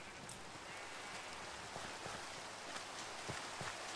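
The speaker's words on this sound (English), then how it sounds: "The rain will go down as well." Rain falls in Minecraft as a constant soft hiss with scattered faint drop ticks, steady and fairly quiet throughout, no voices.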